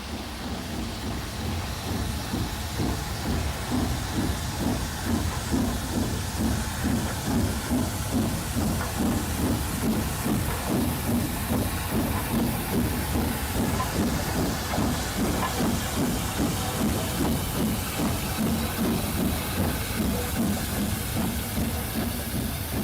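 King Arthur class steam locomotive Sir Lemuel pulling out of London's Marylebone Station, rhythmic chuffing exhaust beats with steady hiss and rolling wheel noise, loud and sustained.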